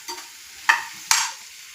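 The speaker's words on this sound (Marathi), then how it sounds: "आता छान मसाला मिक्स करून घेत आहे मी" Masala being stirred into okra curry in a pan, heard as two distinct scraping strokes over a soft sizzle, close up and with no talking.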